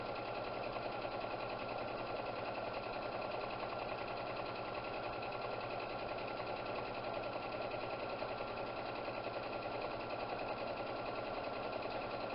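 Close and steady, a sewing machine hums as it sews straps onto a tote bag. The motor whirs at an even, rapid pace with fine mechanical ticking throughout and no voices.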